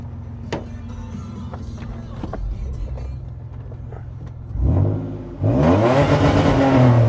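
A Toyota 4Runner engine idles with a steady low rumble close by, then rises in a louder surge toward the end.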